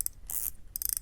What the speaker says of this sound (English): Very happy with the sounds that this reel makes